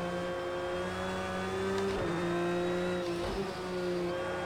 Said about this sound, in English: This Porsche sounds bloody lovely.